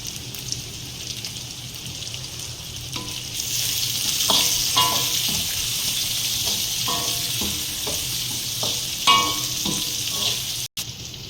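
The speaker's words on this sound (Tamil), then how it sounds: "இப்போ வரமிளகாய் சேர்த்துக்கலாம்." Dried red chillies frying in an oil-filled pan, a steady close hiss of sizzle with scattered crackles and a few spatula scrapes, continuous throughout without any voice.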